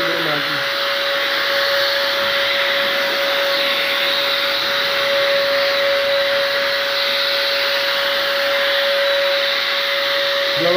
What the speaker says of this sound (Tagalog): Hirap kasi mag-video habang nag-blower.